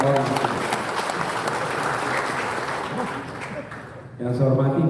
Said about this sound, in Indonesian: Tepuk tangan untuk Ketua Ormas.